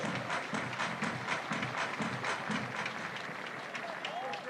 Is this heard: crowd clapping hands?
yes